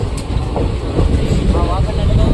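Train pulling into Kukawav railway station onto platform 2 after switching tracks, a steady loud rumble of wheels and carriage noise throughout, with faint clatter and a voice briefly over it.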